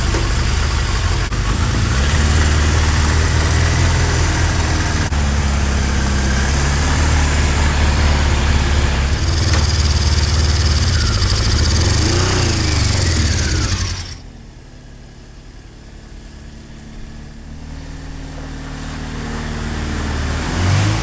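A Suzuki GS550 flat tracker motorcycle, sitting for a few years and just rewired at the coil, runs with a steady rough engine drone that cuts out abruptly partway through, leaving a quieter hum as the sound slowly builds again.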